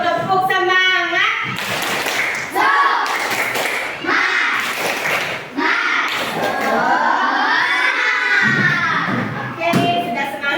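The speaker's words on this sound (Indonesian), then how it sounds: "Coba dulu tepuk semangat." A classroom of children performs a rhythmic spirit clap in an Indonesian lesson, with bursts of sharp claps and thumps alternating with loud chanted voices in a steady pattern, close and energetic.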